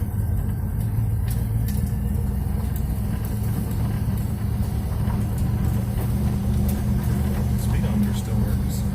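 A 1967 Chevrolet Bel Air fitted with a TR6060 manual gearbox on its first drive, giving a steady, loud low engine rumble and road noise throughout, heard from inside the car with talk over it.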